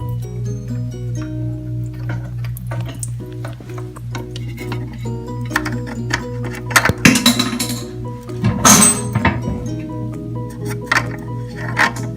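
A nut being fitted onto a toilet valve, with small metallic and plastic clinks and ticks close by over a steady low hum, including a couple of louder rattling bursts toward the end.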